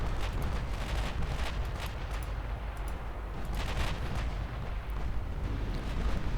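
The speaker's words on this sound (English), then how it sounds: "we're already getting torpedo hits, and those are not my torpedoes being launched" Torpedo hits explode against warships in the naval battle game Ultimate Admiral Dreadnoughts, a dense, rumbling barrage of booms and gunfire rolling continuously at moderate volume with no talk.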